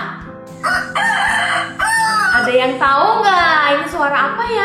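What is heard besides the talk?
rooster crowing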